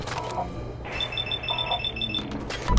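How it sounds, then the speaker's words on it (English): Rapid high electronic beeping pulses in a steady rhythm during tense combat in Fallout 4, sitting above low game ambience with a few thuds. "That beeping is such high tension."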